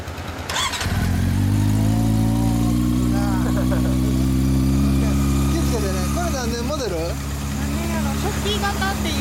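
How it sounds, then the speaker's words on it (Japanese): A 2010 Honda CB400 Super Four Revo fitted with an SP Tadao muffler runs close by. The engine starts and settles into a loud, steady idle, with short revs in the second half and people talking over it. "マフラーは SP タダオ、はい、うん、エンジン音聞かせてくれる？"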